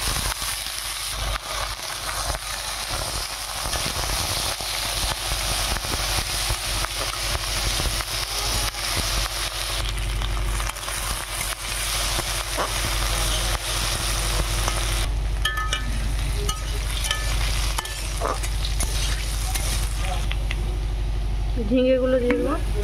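Potatoes go into hot oil with nigella seeds and dried red chillies and fry with a loud, continuous sizzle and crackle. A low steady hum runs underneath, and a voice speaks over it.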